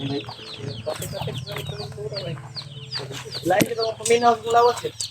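Chickens cluck in a series of short, repeated calls at close range on a rural Filipino property, with occasional louder squawks and people talking nearby throughout.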